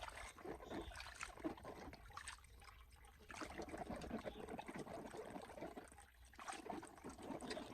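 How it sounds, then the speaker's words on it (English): Faint tap water running and splashing as bell peppers are rinsed in a kitchen, an uneven trickle with brief pauses, quiet and close. "Rinse them thoroughly under running water to remove any dirt or pesticide residue."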